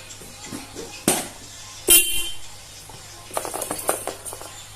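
Two short, loud honks of a car horn fitted on a motorcycle close by, followed by a burst of rattling mechanical clicks.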